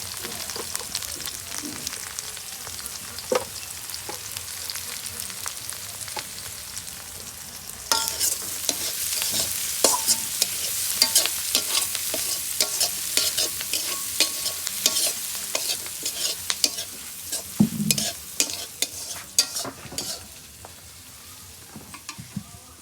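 Sour fermented rice khichuri frying in a pan while being stirred, a continuous soft sizzle broken by frequent scraping, clinking spatula strokes that grow busier midway and taper toward the end.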